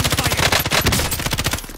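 Sustained rapid gunfire in a video game, a loud close automatic burst with evenly spaced shots rattling throughout, no speech.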